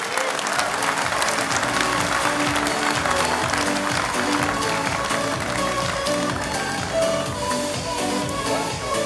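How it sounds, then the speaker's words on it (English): A large awards-night audience at a construction excellence ceremony gives a loud, sustained round of applause, dense clapping with some cheering that holds steady throughout. "Can I get another huge round of applause,"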